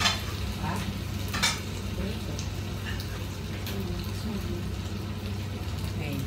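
Eggplant and gourd fry in a pan while being stirred, a steady crackling sizzle with scraping strokes and occasional utensil knocks, moderately quiet and continuous throughout.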